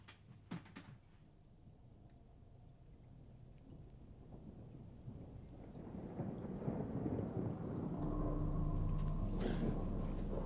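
Rolling thunder with rain, opening as a distant crack, then a slow low rumble that swells and grows louder toward the end, heard without voices.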